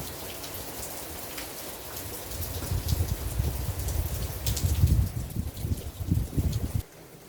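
Steady rain falls outside a home in Chiang Mai, with no thunder, making a dense hiss with heavy patters that swells midway and then cuts off abruptly near the end.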